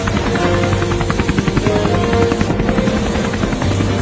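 Cartoon helicopter in flight, its rotor beating in a steady, loud, continuous chop that fills the whole stretch with no voices.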